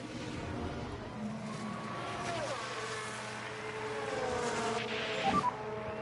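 Formula 1 race cars in the game F1 Manager 23 roar past as engines whine and shift pitch, with a steady mid-level engine drone throughout and a louder passing burst near the end.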